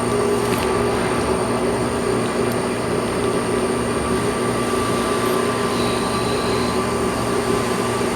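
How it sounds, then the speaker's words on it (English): A 15 by 24 inch Supertec universal cylindrical grinder partway through a grinding cycle, with a hydraulic system and coolant tank, giving a loud, steady mechanical drone with a constant whine and no pauses. "We are about halfway through our grinding cycle right now."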